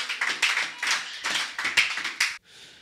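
A church congregation claps in a burst of applause during a sermon, giving a dense, close patter of hands for over two seconds before it stops abruptly.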